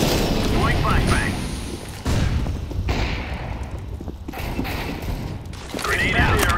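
A flashbang grenade goes off in the game CS:GO, a loud burst with a ringing tail amid ongoing gunfire and combat noise, with in-game voice callouts heard over it.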